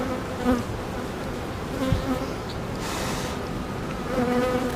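A dense, steady drone of honeybees buzzing around an opened beehive frame with queen cells, a close, continuous hum with individual bees swooping past the microphone, and no talk.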